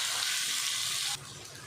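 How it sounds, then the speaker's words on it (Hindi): A small amount of water is poured into a cooking pot of chicken fried with tomatoes, garlic and onion for chicken handi, making a close, steady rushing splash that cuts off abruptly. "थोड़ा सा पानी भी डाल देते हैं"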